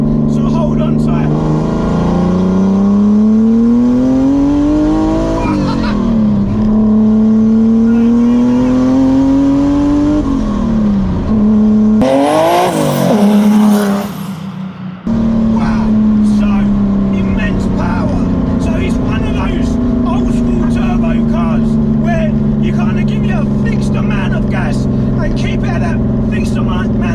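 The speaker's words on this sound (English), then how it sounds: "I'm going to do a second gear pull for you right now" A 500 WHP turbocharged BMW E30 with an S50 swap screams through a hard second-gear pull, engine pitch climbing loudly in long rising sweeps, cut briefly by a sharp shift, then pulling on with faint talk underneath.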